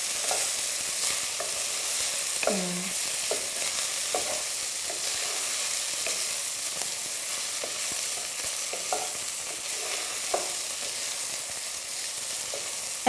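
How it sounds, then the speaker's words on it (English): Garlic and ginger sizzle steadily in a hot pan, with a spatula stirring and scraping now and then over the continuous frying hiss. "as it's cooking, you can really smell that garlic and ginger"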